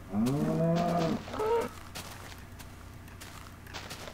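Cows mooing in a video game while being chased: two loud, close moos with strong harmonics, the first long and the second shorter, followed by quieter game background sounds.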